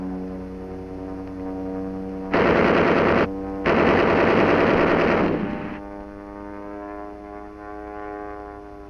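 Machine guns on a Curtiss P-40 fighter plane fire in two sustained roaring bursts separated by a brief pause, loud over a steady droning aircraft engine hum that continues before and after.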